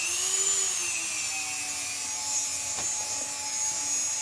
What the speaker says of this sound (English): It's the Dremel 3000.